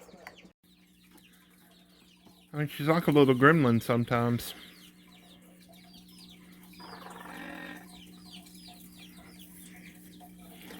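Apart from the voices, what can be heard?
pet bird clucking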